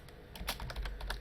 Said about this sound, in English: we're going to type enum facing